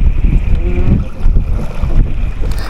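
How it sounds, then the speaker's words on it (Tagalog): A strong northeast monsoon wind buffets a small fishing boat in Ulugan Bay, Palawan. It is a loud, gusting low roar of wind against the microphone that swells and dips without a break. "Ramdam na po dito yung lakas ng hangin o amihan habang kami po ay nagpi-fishing sa spot na ito."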